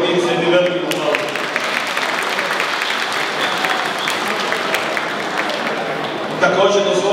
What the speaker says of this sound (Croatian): molim vas da njega pozdravite i njegov tim se jednim velikim aplauzom.